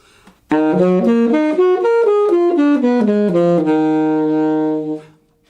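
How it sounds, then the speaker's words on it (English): A saxophone plays a rising and falling arpeggio in a minor key, each note distinct and even in rhythm, close and loud, ending on a held low tone. "So the grand arpeggio in minor sounds like."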